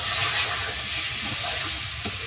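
Masala spices frying in plenty of oil hiss and sizzle steadily in a pan, a close, continuous crackle with faint stirring scrapes and no voices.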